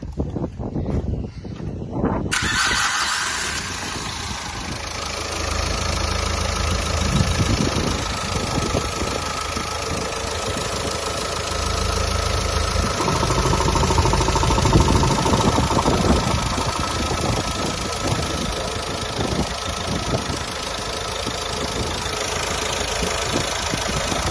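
A 2011 Nissan Qashqai+2 engine cranks briefly, catches and settles into a steady, loud idle that runs on unchanged and close by, with no talking over it.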